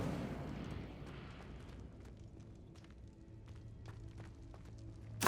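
Incendio fire spell cast in the PC game Hogwarts Legacy: a loud rumbling, roaring whoosh opens and fades over a few seconds, with scattered crackles and a sharp burst at the end.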